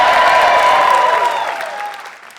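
An audience at a stand-up comedy show claps loudly and steadily, then the applause thins and fades toward the end.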